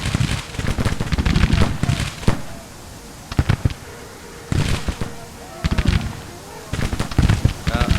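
Massed infantry musket volleys in the Civil War strategy game Grand Tactician, with crackling bursts of many rifles firing in several separate waves, each followed by brief lulls.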